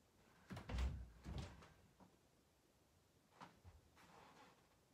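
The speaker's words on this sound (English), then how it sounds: "Alright, I'm gonna open the door." A door is opened in a quiet room, with a couple of low thuds and rattles of handling in the first seconds, followed by fainter creaks and small knocks, close by and with no talk.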